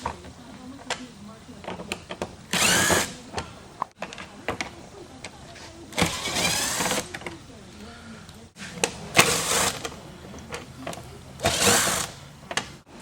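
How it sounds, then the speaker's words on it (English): A cordless drill backs out Phillips head cowl screws on a Ford Windstar, running in several short whirring bursts separated by pauses, with someone talking faintly between them. "so I just use my cordless and go ahead and take off the top cowl screws"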